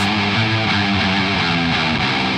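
A distorted electric guitar through a humbucker plays a chugging rhythm riff alone as the left track, thick and steady with sustained harmonic layers.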